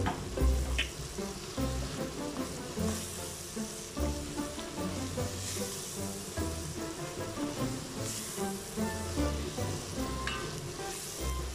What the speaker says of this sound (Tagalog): ilagay naman natin na ngayon ang ating tomato